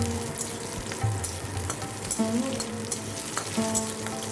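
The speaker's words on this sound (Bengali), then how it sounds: "রসুন আর কাঁচা লঙ্কাটাকে প্রথমে একটু ভাজা ভাজা করে নেব" Garlic and green chillies fry in a hot pan with a steady crackling sizzle, stirred now and then, and a few brief tonal clinks rise over the continuous frying.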